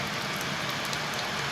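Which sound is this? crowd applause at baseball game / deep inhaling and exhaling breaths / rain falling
rain falling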